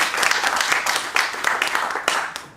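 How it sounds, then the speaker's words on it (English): A brief, loud burst of audience applause with crisp, close individual claps over a dense background of clapping, sustained at a fairly even level throughout. "let's give a round of applause to these sisters"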